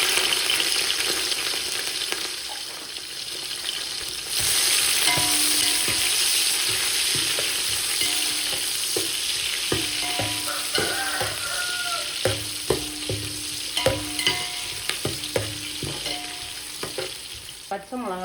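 Sliced onions, about 150 of them, fry in hot oil for a seeraga samba mutton biryani. The sizzle is loud and steady, and stirring scrapes knock against the pan throughout.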